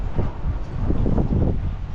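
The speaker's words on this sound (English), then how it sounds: "It's really windy out here" Strong wind buffets the microphone with a continuous low rumbling roar, gusting unevenly over a couple of seconds.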